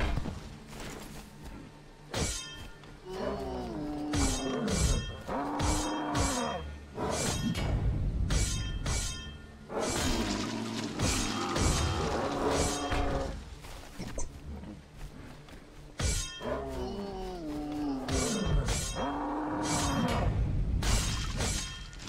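Glass shatters repeatedly in the video game Overlord II, with bursts of crashing and breaking mixed with whooshes, game creature noises and music over about twenty seconds.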